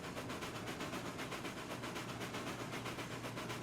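A long freight train rolls along in the Railroads Online game with a faint, steady rumble and a regular, rhythmic clatter of wheels on the track.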